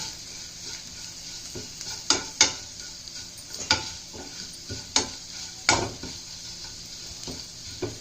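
Grated ginger and masala roasting in a pan for a Rajasthani onion kachori filling, with a spoon scraping and stirring in several sharp clinks over a soft steady sizzle.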